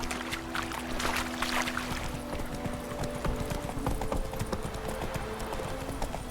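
Roach, Geralt's horse in The Witcher 3, galloping: rapid rhythmic hoofbeats pounding continuously and close, over a low game ambience.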